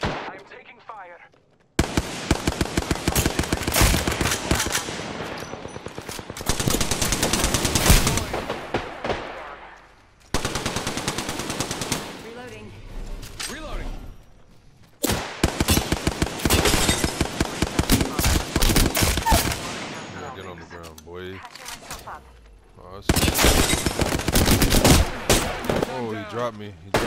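Automatic gunfire in the battle royale game Apex Legends, loud repeated bursts of rapid shots separated by brief pauses, with a player talking over the fighting.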